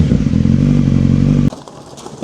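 A 2002 Suzuki GSXR1000 K1 fitted with a Yoshimura Tri Oval exhaust roars loud and close with a harsh, crackling blare for about a second and a half, then cuts off abruptly, leaving light clattering.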